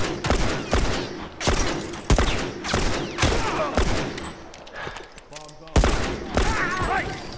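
Repeated gunfire bursts crack out in The Last of Us Remastered, several sharp loud shots spaced roughly half a second to a second apart, with game ambience and a voice talking between them.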